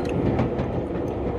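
A moving train rolls along the rails with a steady, loud rumbling and rattle of carriages, heard alone without voices.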